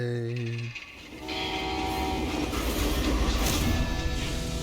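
A freight train in the Western shooter game Call of Juarez: Gunslinger sounds a whistle, then rumbles loudly and continuously with rolling mechanical noise as it rushes past.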